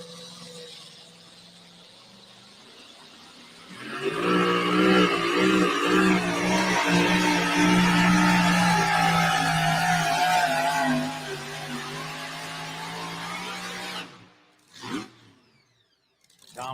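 A pro stock tractor at a Wisner, Nebraska tractor pull roars loudly at full throttle for about seven seconds, then drops to a lower drone before cutting off, followed by a brief final burst.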